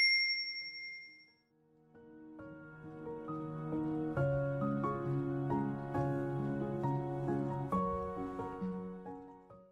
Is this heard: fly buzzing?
no